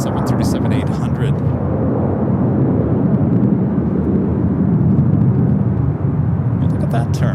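A Boeing 737-800 airliner at Los Angeles airport gives a heavy, steady low jet roar, close and constant throughout, with brief bursts of voice near the start and end.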